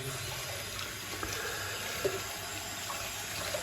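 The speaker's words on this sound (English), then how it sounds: "I'm quickly just giving the brush a rinse, and then I'm also, it's a small trinkle of water" A shaving brush is rinsed under a small, steady trickle of tap water at a sink, the running water sounding continuous and close throughout with a few faint splashes.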